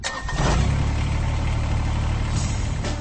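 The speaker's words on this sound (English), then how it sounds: "That's the sound of a Kubota BX Series, America's top-selling subcompact tractor" A Kubota BX Series subcompact tractor's small diesel engine runs steadily nearby, a low chugging idle with a brief rise at the start.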